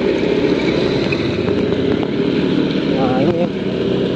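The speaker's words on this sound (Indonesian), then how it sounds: "Kendaraan masih cukup banyak yang melintas." Steady vehicle traffic on a rainy evening street in Pengasinan, Depok, heard from a moving motorcycle, a continuous loud rumble of engines and road noise with a brief whining pass near the end.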